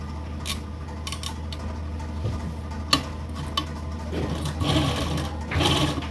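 Sewing machine stitching lace onto a buckram-backed neckline in a tailoring boutique, a steady low mechanical hum with faint ticking and a few clinks, running close and continuous without talk.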